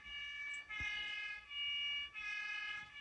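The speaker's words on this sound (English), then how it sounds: "There's a police siren." Police siren setting on a Bruder toy fire engine: a small electronic wail cycling up and down about three times, fairly faint and thin, with a couple of soft clicks and no speech.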